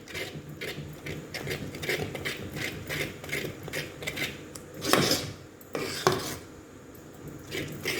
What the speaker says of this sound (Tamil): இப்போ இது ரெண்டையும் நல்லா கலந்துக்கலாம்